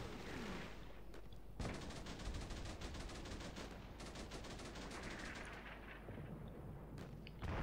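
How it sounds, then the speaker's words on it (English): A machine gun team fires in Combat Mission Shock Force 2, with rapid bursts of automatic gunfire rattling in repeated volleys at a moderate distance over a low rumbling battlefield backdrop, with no talking. "That's that MG team there putting the lead out"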